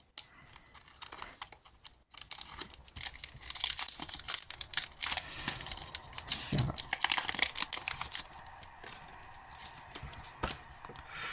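Pokémon card booster packs being torn open, foil wrappers crinkling and ripping in quick bursts, with cards shuffled, while a voice talks over the handling.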